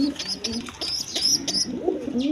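Silver pigeons cooing in a loft, soft repeated throaty coos with light chirps, close by, over a faint background murmur.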